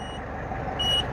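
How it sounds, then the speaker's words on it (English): A steady high electronic low-battery warning beep from a radio controller sounds near the end, over a constant low rumble of a Zenoah 32cc engine. "Battery's beeping."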